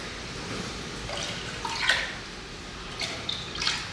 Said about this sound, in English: putting 750 cc's of water into our pot